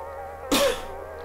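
A single short, harsh cough-like gag bursts out close to the microphone, breaking briefly through a quiet, humming background.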